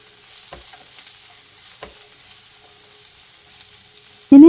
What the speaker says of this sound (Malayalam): ഇനി ഒരു സവാള കട്ട് ചെയ്തത് ചേർത്ത് കൊടുക്കാം.